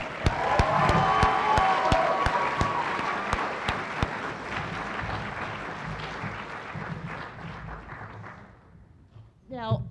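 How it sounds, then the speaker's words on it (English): Applause fills an awards ceremony hall, loud dense clapping from the audience with a few sharp close claps, slowly thinning out before a voice briefly starts at the end. "Can we please give everyone another round of applause here?"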